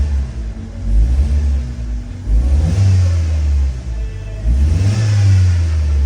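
Chevrolet Cruze engine revving under acceleration during a diagnostic check for a throttle actuator control fault, a loud, steady low rumble with two rising rev swells, close by and alone with no talk.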